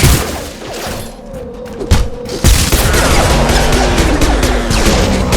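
Heavy gunfire in Mass Effect against hostile mechs, loud sustained fusillade with crashing impacts and thuds, dense and close throughout.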